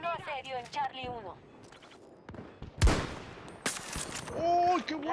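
Gunfire in Battlefield 2042 cracks out in a couple of sharp loud shots between stretches of excited talk from players.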